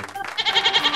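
One short goat bleat with a quick, trembling vibrato, loud and close, following a brief softer sound.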